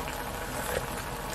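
Soup broth with zucchini and tuna extract boils rapidly in a covered pot, a soft continuous bubbling hiss heard close and quiet with no talking.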